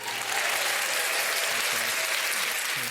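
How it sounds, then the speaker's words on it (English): Steady applause from a crowd fills the space, a dense even clapping wash at constant loudness with faint voices murmuring underneath. "The applause."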